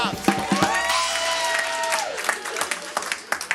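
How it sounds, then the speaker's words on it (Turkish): An audience at a live quiz night breaks into loud, steady applause mixed with some cheering, fading into scattered clapping under a voice on a sound system. "Alkışlıyoruz onları"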